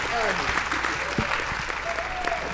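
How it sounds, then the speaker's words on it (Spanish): An audience at a Spanish-language safety summit applauds, with dense, loud clapping filling the room throughout, mixed with crowd murmur and a few voices calling out. "Un gran aplauso, vamos a escucharlo."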